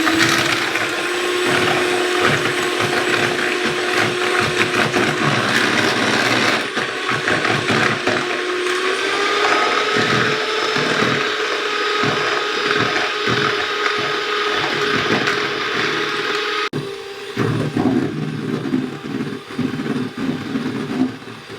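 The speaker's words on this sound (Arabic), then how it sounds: "هنا نضيف السكر على البيض، وهسه نبدي نخفق إلى أن يتكون عندنا خليط" An electric mixer whisks eggs and sugar for a Snickers cake batter: a loud, steady motor whir runs unbroken throughout, with slight shifts in pitch and a brief change in tone near the end.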